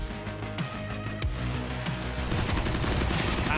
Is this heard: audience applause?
no